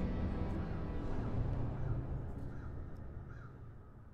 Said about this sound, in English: And to make it scary, here's some crows out there.